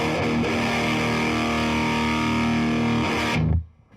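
A loud, saturated high-gain electric guitar chord in an 80s hair metal tone, with treble up and mids cut, rings out with heavy distortion, sustaining thickly before cutting off abruptly near the end.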